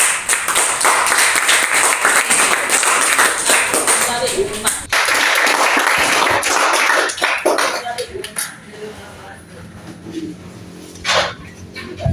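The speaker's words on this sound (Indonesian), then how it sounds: "kita berikan aplaus dulu yang meriah untuk kelompok reaksi kimia" Classroom applause for a student group after a chemistry presentation, a dense burst of clapping that fades and then stops, with voices talking over and around it.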